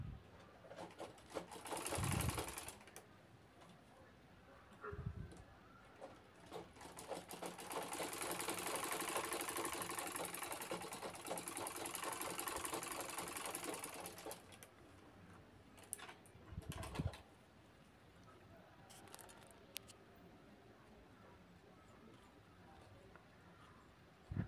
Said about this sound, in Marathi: आता साईडच्या दोन्ही बाजू राहिलेल्या आहेत, शिवून आपल्याला पूर्ण करायचे आहेत.